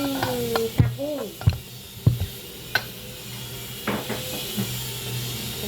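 Vegetables stir-fry in a pan with cooked mussels, a steady sizzle broken by several sharp scrapes and clanks of a utensil against the pan, close and clear with no talking.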